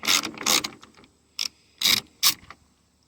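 A socket wrench ratchets a nut while a tow mirror is fitted to a 2007 Silverado 2500 HD Classic, giving five close, bright bursts of rapid clicking, some long and some short, with quiet gaps between.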